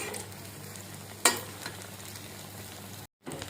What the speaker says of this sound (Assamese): মই এতিয়াহে কৰিলোঁ তৃতীয় পকৰাটো ফ্ৰাই কৰোঁতে